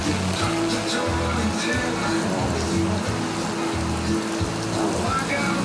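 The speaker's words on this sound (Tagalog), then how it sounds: "lakas ng ulan" Heavy rain pours steadily over a low droning motorcycle engine hum while riding, a constant dense hiss with a voice talking faintly underneath.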